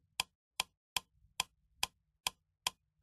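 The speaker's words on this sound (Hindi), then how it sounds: "तुम इस घड़ी की आवाज को सुन रही हो।" A clock ticks seven times at a steady, even pace, each tick a sharp, crisp click over near silence, fairly quiet and heard alone without voices.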